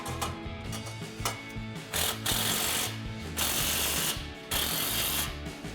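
An impact wrench with an 11mm socket tightens an exhaust tip on a 2014-2019 Corvette C7 axle-back exhaust, firing in several short rattling bursts separated by brief pauses, close and moderately loud.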